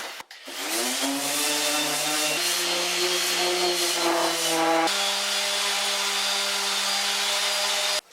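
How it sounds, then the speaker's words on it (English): A power sander whines steadily and close on a wooden boat's forehatch, its tone stepping slightly in pitch while it runs continuously without pause. "just sanding"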